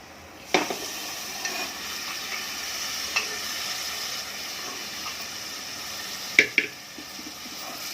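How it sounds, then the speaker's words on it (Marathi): Brown chickpeas tipped into frying masala in a pan, a low continuous sizzle broken by a few sharp clatters and scrapes of stirring, with no talking. "आता आपला मसाला व्यवस्थित परतून झालेला आहे. आता आपण हे चणे टाकून घेऊया."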